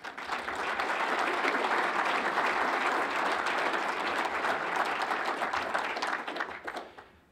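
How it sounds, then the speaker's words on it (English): Hall audience at Lawrence's State of the City address bursts into sustained applause, quickly rising to a dense, even roar of many hands that holds for several seconds, then thins and fades out. "That deserves an applause."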